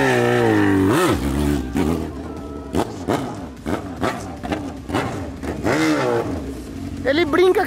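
A Yamaha XJ6 motorcycle engine revs repeatedly in sharp bursts, close and loud, rising and falling in pitch, with people talking over it.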